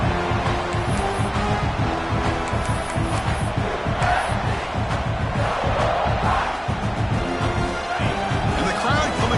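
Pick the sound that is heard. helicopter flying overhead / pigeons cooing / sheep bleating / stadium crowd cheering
stadium crowd cheering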